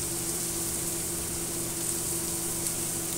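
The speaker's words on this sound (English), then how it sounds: "we're going to add our garlic to saute our garlic" Garlic sautéing in olive oil in a pan, a steady close hiss of sizzling oil with a faint constant hum beneath, even and unbroken for a few seconds.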